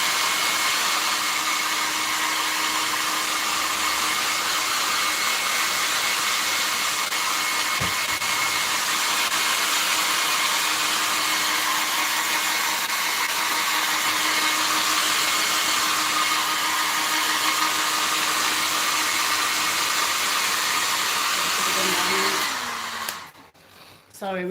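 A hair dryer blows steadily at close range, a loud continuous whoosh with a faint whine, drying makeup powder; it cuts off near the end.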